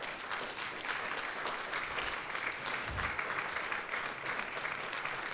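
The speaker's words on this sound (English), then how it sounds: "please go up front for one more round of applause from our audience" Steady audience applause for storytellers at a live storytelling show, dense and sustained clapping filling the room for several seconds with no pauses.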